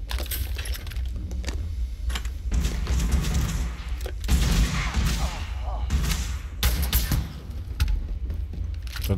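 Gunfire in the action role-playing video game Starfield, with scattered bursts of shots and heavy thuds rising from a low rumble, and a voice faintly heard in places.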